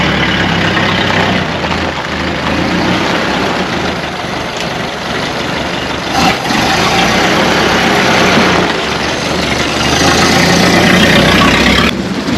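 The engine of a Super Winfield car runs continuously after a distributor fix, a loud, close, steady rumble with slight swells in intensity and no talking.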